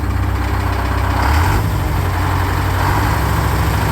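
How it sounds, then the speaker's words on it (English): A Detroit diesel engine on a Link-Belt LS 98 crane runs at a steady idle, a loud, close, continuous low rumble with a brief slight rise in revs. "Good running little Detroit engine."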